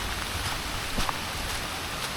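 Rain falls without a break at a lakeside campsite in Cavinti, Laguna, as a dense steady hiss with faint scattered drops close by.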